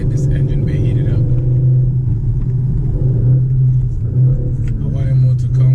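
Turbocharged Audi SQ5 engine running steadily in dynamic mode to heat the engine bay, a loud continuous low rumble that holds level throughout with a slight rise near the end.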